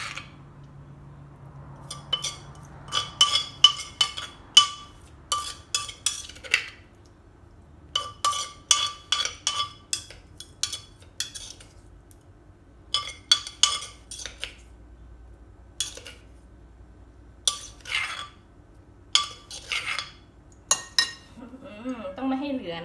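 A plain tablespoon clinks against a dish while serving Thai spicy papaya salad (som tam): repeated bright metallic taps in quick bursts separated by short pauses, close and moderately loud.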